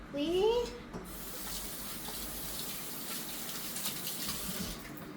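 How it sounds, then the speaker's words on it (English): Tap water runs into a sink during handwashing in a home kitchen, a soft steady rush heard close by. A brief voice is audible at the start. "I'm gonna wash my hands really quickly"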